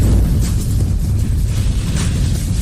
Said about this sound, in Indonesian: Rakyat jelata yang sombong, lautan api meledak.